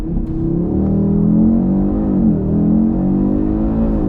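A 2022 Audi RS3 with 400 hp and all-wheel drive launches under launch control, its engine rising in a loud, close, continuous roar as it accelerates, with no talking.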